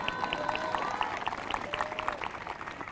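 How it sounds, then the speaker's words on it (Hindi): A church congregation at a prophecy and prayer service claps together, a quick rhythmic patter of many hands that carries on steadily with no voices heard over it. "आपने ताली बजाई ना"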